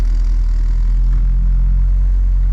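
A 1997-2001 Honda CR-V engine on billet torque mounts idles loudly and close, a deep steady rumble with a vibrating low throb throughout and no talking.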